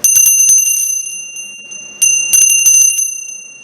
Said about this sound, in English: So now we have a bell that actually works as a lunch bell.